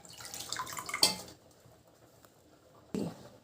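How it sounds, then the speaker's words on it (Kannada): Water is poured into a pan of cooking chili and garlic paste, giving a short splashing clatter with a sharp clink, then near silence before another brief splash at the end. "ನೀರು ಹಾಕಬೇಕು 1 ಅರ್ಧ ಕಪ್ ಅಷ್ಟು"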